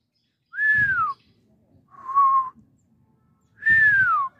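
Three whistled birdlike calls of a Korean bush warbler, two bright rising-falling notes framing a shorter steady one in the middle, close and clear with a faint low rumble beneath.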